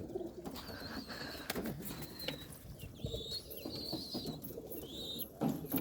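Racing pigeons with clipped wings coo softly in a loft, with occasional wing flaps and chirps, fairly quiet and close, no talk.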